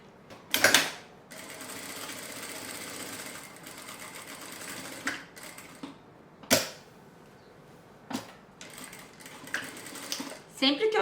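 A sewing machine stitches a zipper onto a fabric notebook case, running in short bursts with pauses, sharp clicks and handling noises between the runs, close by.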